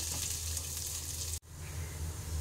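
Washed lentils (dal) fry in a pan for khichuri. A close, steady hiss of sizzling is broken by a sudden instant of silence, then resumes just as steadily.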